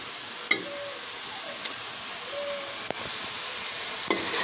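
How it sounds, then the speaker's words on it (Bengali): Red amaranth greens frying in a pan, a constant sizzle with occasional sharp stirring clinks and scrapes, one more than a second apart, close and with no talk. "এখন কিছুক্ষণ নাড়াচাড়া করব"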